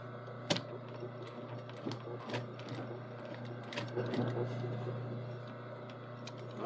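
A sewing machine stitches with the presser foot lowered, a steady mechanical run with small periodic clicks and a low motor hum, fairly quiet and close, with faint background voices.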